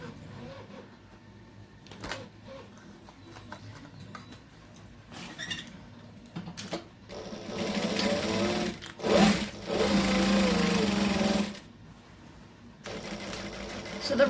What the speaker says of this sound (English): now we just want to sew here, leave a gap, and then sew up there